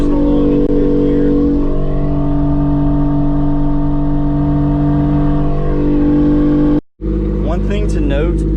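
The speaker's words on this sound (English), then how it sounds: "Cruising along in fifth gear." A Lexus IS300 car cruising steadily in fifth gear, a loud continuous engine drone with slight pitch drifts from inside the cabin, briefly cut off near the end before resuming.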